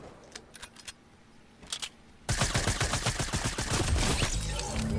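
Spaz shotgun fire in a Fortnite Season 4 arena match: a few faint taps, then a sudden loud burst of rapid, dense gunfire that keeps hammering for several seconds.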